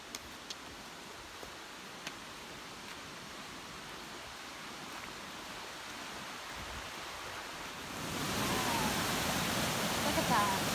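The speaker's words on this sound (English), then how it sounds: "Cool waterfall." Waterfall beside a hiking trail on Vermont's Long Trail, a faint steady rushing hiss that swells noticeably louder in the final few seconds as it comes closer, with a few small ticks earlier.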